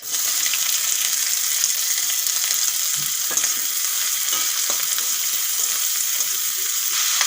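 Nigella seeds and chopped onion frying in hot oil with a bay leaf, a steady dense sizzle throughout with a few faint stirring clicks, close and alone.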